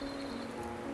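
Rain falls steadily at Humboldt Falls in Fiordland's mountains, a continuous close hiss of drops with no break across the short moment.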